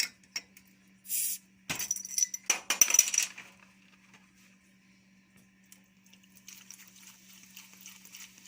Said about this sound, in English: Let's crack one of these beers and pour it on.